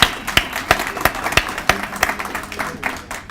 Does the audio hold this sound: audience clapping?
yes